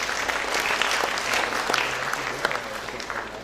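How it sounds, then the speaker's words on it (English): Audience applause at a science congress in Chandigarh: dense, sustained clapping from a sizeable indoor crowd, steady and moderately loud throughout. "A big round of applause,"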